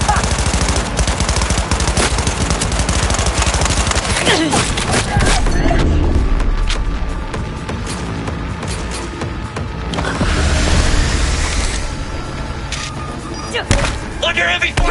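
Heavy automatic gunfire in the video game Cyberpunk 2077, loud continuous bursts with thuds and booms, close and relentless, with voices over the shooting.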